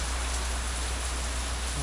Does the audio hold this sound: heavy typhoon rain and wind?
yes